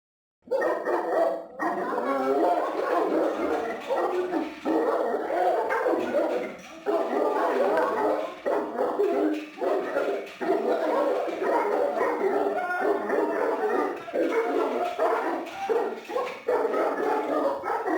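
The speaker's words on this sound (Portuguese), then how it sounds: "Agora que você viu esse vídeo do Thor, que você viu ele latindo na grade" A Fila Brasileiro guard dog barks repeatedly at a fence, with loud, dense, near barking running almost continuously through the whole stretch and only brief pauses between bursts.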